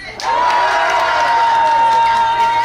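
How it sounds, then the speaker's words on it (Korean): A night festival crowd at a chrysanthemum fair in Iksan erupts into a loud sustained collective shout and cheer, starting abruptly and holding steady with scattered whoops and clapping mixed in. "자 함성 한번 질러본다 시작"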